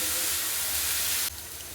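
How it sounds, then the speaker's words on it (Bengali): Chopped pointed gourd (potol) frying in a pan, a steady loud hiss and sizzle that drops slightly in level near the end, with no voices. "এবার কেটে রাখা পটলগুলো দিয়ে দেবো ভালো করে নাড়াচাড়া করে পটলগুলো ভেজে নেব"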